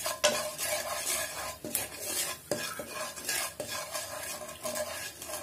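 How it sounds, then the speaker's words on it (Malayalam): Turmeric, chili powder and salt masala stirred in a pan, repeated scraping strokes of a utensil against metal over a soft sizzle, close and rhythmic. "എന്നിട്ട് ഇതൊക്കെ ഒന്ന് നന്നായിട്ട് മിക്സ് ചെയ്ത് കൊടുക്കുക."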